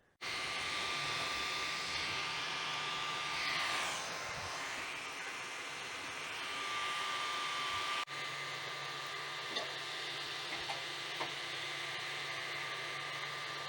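A small cooling fan in a 3D printed case for an ASUS RT-68U router runs on test, giving a steady whooshing hum with a faint tone that shifts slightly partway through.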